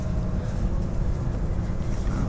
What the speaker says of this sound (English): On the bullet train.